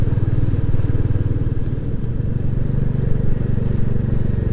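A group of about 25 Royal Enfield Classic 350 motorcycles rides together on a countryside outing, their single-cylinder engines thumping in a loud, steady, close-up throb with a rhythmic pulsing drone.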